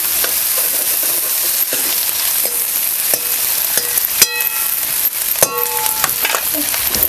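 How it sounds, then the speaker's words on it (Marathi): Chopped onions are stir-fried in a pan over a wood-fired stove while a chicken gravy is being made, with a constant bright sizzle and repeated scraping clicks of a spatula, close and loud, with no talking. "कांदा लालसर होसपर्यंत परतून घ्यायचं पूर्ण लालसर होसपर्यंत परतून घ्यायचं"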